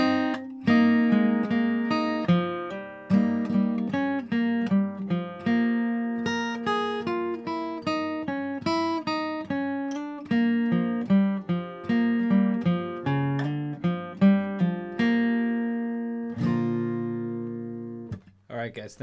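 An ending lick on acoustic guitar: a quick run of bright, clearly picked single notes and bass notes in steady rhythm, finishing on a sustained strummed chord that rings out alone.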